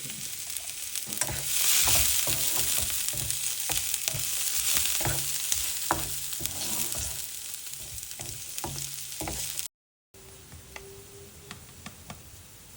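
Garlic and curry leaves frying in hot oil for a beetroot stir-fry, a loud steady crackling sizzle with scattered pops and spatters, briefly cutting out before resuming softer with light ticking.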